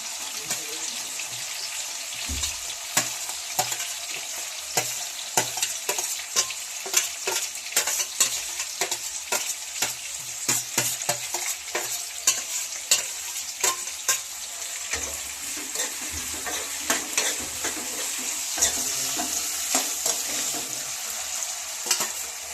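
Onions frying and being stirred in a pan while cooking capsicum rice: a steady sizzle with frequent scraping and clinking strokes of the spatula, close and continuous throughout.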